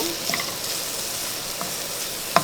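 Finely chopped onions sauté in a saute pan, a steady close sizzle with a few faint clinks of a utensil, no voices.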